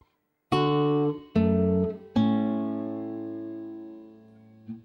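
Three clean plucked guitar chords from Minuet in G ring out one after another, each sustaining and slowly decaying, with a faint pluck at the end.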